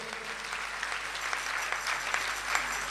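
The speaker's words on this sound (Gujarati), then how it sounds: "ભક્તજનોની બે હાથની તાળીથી થવો જોઈએ" A crowd of devotees claps hands steadily at a Radha Janmotsav devotional gathering, a dense continuous applause that holds at an even level throughout with no voices over it.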